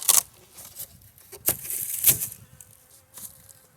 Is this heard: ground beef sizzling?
no